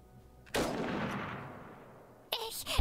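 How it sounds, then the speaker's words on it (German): A single loud gunshot rings out in the video game Iron Harvest, a sharp blast whose echo decays over nearly two seconds before a second burst of impact sound. "Ich hab getroffen! Guter Schuss"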